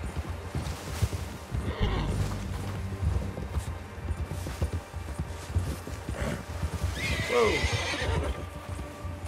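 Horse in Red Dead Redemption 2 whinnies loudly and its hooves clop rhythmically across the ground, with a second neigh near the end over dense game ambience.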